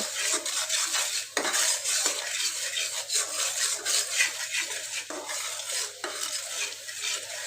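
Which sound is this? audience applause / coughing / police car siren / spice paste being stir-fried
spice paste being stir-fried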